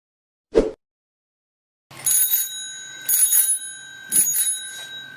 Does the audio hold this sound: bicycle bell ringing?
yes